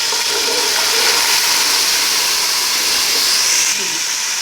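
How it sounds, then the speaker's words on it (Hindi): Water is poured onto browned onions in a hot cooking pot, giving a loud, steady rushing hiss that carries on unbroken for several seconds. "अब हम इसमें थोड़ा सा पानी डालेंगे।"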